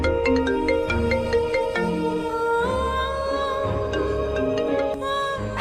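A phone rings unanswered in a Hindi TV drama scene with a bright electronic ringtone melody repeating steadily for several seconds, loud and clear with no voices.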